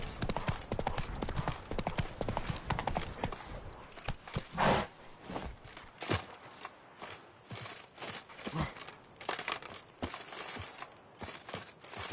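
Horse hooves clip-clop steadily at a walking pace while riding in The Witcher 3, close and clear, with a brief whinny-like sound partway through and no talking over it.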